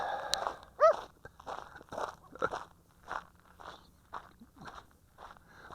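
A dog barks repeatedly outdoors at a drone test site, short yelps spaced about half a second apart, moderately distant and fairly quiet with no talk over them.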